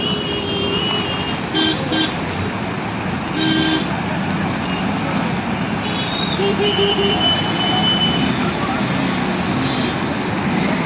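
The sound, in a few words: traffic jam with car horns honking in heavy rain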